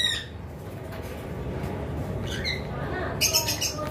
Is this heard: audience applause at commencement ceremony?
no